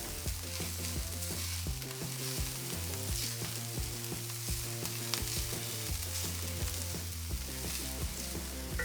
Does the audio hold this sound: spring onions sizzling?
yes